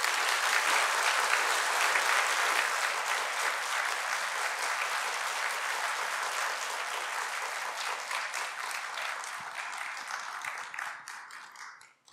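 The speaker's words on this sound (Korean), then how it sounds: "뜨거운 박수로 환영해 주시면 감사하겠습니다" An audience at a lecture gives sustained, enthusiastic applause to welcome a speaker back to the stage, dense clapping that holds steady before thinning out and stopping at the end.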